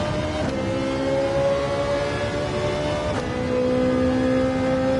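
Race car engine in Gran Turismo 7 at Suzuka Circuit, holding a steady loud drone that drops in pitch once and again as the car downshifts, then carries on under the throttle, with no talk.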